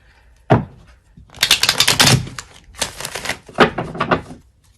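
Tarot cards are riffled and shuffled in several quick crisp bursts separated by short pauses, close up.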